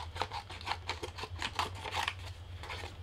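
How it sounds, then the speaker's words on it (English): Scissors snip through a piece of paper in a craft setting, a quick run of close, crisp cuts under a steady low hum. "I'm just going to take my scissors and whack off a piece of it."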